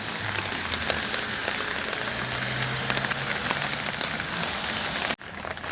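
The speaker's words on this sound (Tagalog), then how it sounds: "It's raining in UAE" Steady rain falls in the UAE, a dense, even patter of drops hitting a surface close by. It holds for about five seconds and then cuts off sharply. No one speaks.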